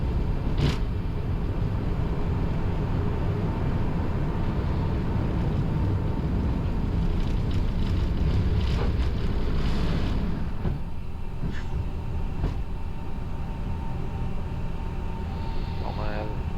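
Cockpit of an Edelweiss Airbus A350 during a heavy TOGA takeoff climb out of Zurich, a loud constant engine and airflow roar with brief clicks, voices talking over it.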